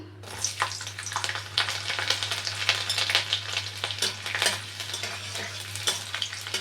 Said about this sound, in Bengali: তেল গরম হয়ে গেলে দেবো একটা শুকনো লঙ্কা, দেবো গোটা রসুন